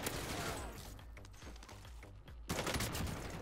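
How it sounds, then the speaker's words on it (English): Rapid automatic gunfire bursts out in a Call of Duty Cold War / Warzone match, dense rattling volleys that ease briefly in the middle before a loud burst resumes near the end. "Someone's shooting me already."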